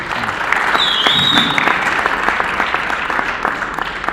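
An audience claps at a live church gathering, a sustained burst of applause from a crowd with a brief whistle-like tone near the start.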